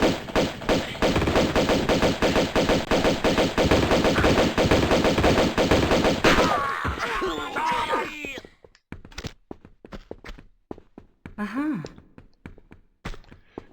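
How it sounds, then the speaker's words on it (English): Rapid machine-gun fire shooting out windows in the Tomb Raider 2 Remastered video game at Barkhang Monastery, a loud dense burst for about six seconds, then scattered impacts and game sounds. "Now I'm shooting even more windows."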